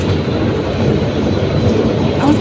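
A toy train at Surya Sen Park rumbles steadily along its track past a hill, a continuous low rolling clatter with no pauses, close and fairly loud.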